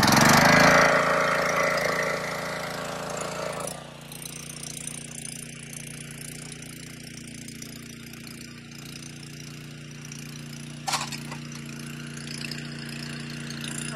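The petrol engine of a pressure washer runs outdoors during barn painting work. It roars loudly at first, then settles into a steady hum with a brief squeal near the end.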